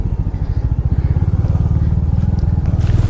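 A Royal Enfield Hunter 350 single-cylinder motorcycle thumps along while riding, its steady rapid pulsing exhaust loud and close with wind rush over it.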